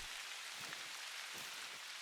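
Steady rain pours down in the hunting game theHunter: Call of the Wild, a dense, even hiss of drops pattering on surfaces throughout, with no voices.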